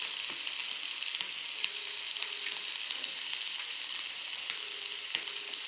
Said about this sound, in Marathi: तेल चांगलं तापलेलं आहे, त्यात मी कांदा टाकून घेतो.